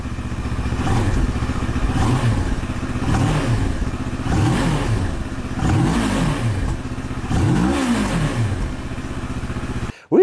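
A Moto Morini X-Cape 650 motorcycle engine runs steadily nearby, loud and continuous with repeated rising and falling revs and a mechanical clatter, with no talking over it.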